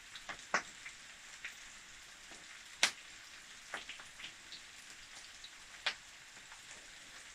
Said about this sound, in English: we'll fry this until it's solid